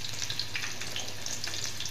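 Sliced carrot and green chillies fry in a pan for a vegetable biryani, a steady close crackling sizzle with scattered pops and light stirring scrapes throughout, no voices.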